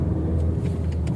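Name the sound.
truck driving past on a damaged road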